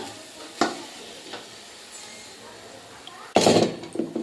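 Chicken pieces dropped into a hot biryani pot give short, loud bursts of sizzle and scraping, with a brief clatter early on and a stronger sizzling burst near the end.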